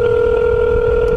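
A steady electronic telephone tone from a call being placed on a cell phone, holding unbroken and fairly loud for the whole moment with no talking.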